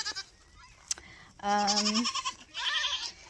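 Two wavering goat bleats sound close by in quick succession, following a couple of short clicks and rustles.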